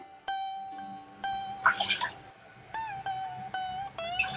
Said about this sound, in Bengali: এখন একটা ক্যাসারোলে আমি জল বসিয়ে দিচ্ছি গরম করবার জন্যে।